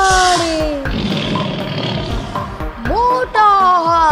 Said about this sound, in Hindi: शेर दहाड़े